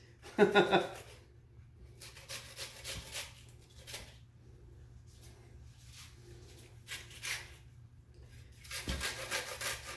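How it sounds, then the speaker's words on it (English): Half an onion is rubbed against a cheese grater in short scraping bursts, with quiet pauses between strokes and a denser run of rasping toward the end, heard close-up. "Very careful not to get your finger caught on the cheese grater."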